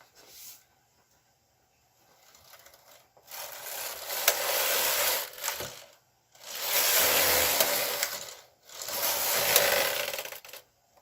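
Flatbed knitting machine working rows of stockinette stitch, the carriage sliding across the needle bed in three long rasping, ratcheting passes separated by brief pauses, close and fairly loud with no talk.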